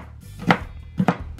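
A knife chops hashbrown ingredients on a flexible chopping mat, giving two sharp, close strikes about half a second apart with no talk.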